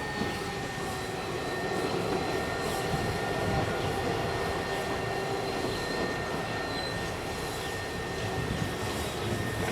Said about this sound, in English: we once again see Manildra wheat trains passing through